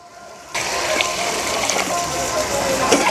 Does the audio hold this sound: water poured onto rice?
yes